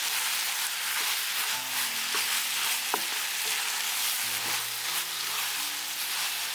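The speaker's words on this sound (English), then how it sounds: "Stir for 1 more minute." Beef stir-frying in oyster sauce in a pan gives a steady, close sizzle with scattered clicks and light scraping of stirring, plus faint tonal hums in the background.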